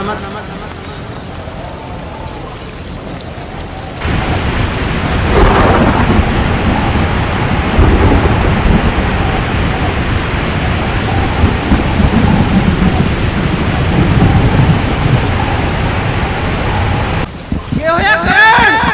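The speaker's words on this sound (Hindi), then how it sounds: "बारिश हो रही है" Heavy rain pours down steadily with deep rumbling thunder, a loud continuous storm after a brief quieter opening.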